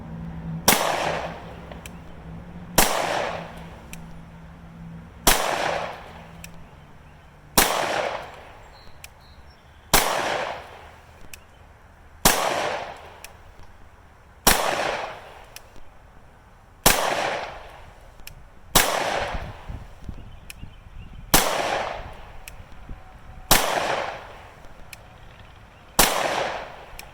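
East German AK rifle firing hollow point rounds into a block of 23-year-old meat: twelve sharp, loud single gunshots at a steady pace of roughly one every two seconds, each with a short ringing decay.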